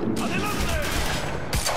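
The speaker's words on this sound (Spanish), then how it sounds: "¡Estamos bajo fuego!" Sustained gunfire from the sci-fi action video game Quantum Break, a dense burst of rapid shots running continuously with a few sharper cracks near the end, loud and close throughout.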